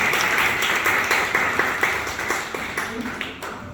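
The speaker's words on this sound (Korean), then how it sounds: "큰 박수 부탁드립니다." Applause at a political party committee launch ceremony, many hands clapping in a sustained crowd patter that slowly fades, with a few voices mixed in.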